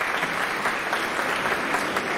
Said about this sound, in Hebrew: מגיע לו מחיאות כפיים.